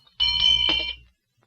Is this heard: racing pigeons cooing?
no